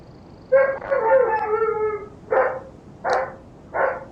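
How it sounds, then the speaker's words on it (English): A dog howls in a long wavering note, then gives three short sharp barks, loud and close against a quiet background. "Wow, you can still hear the dog."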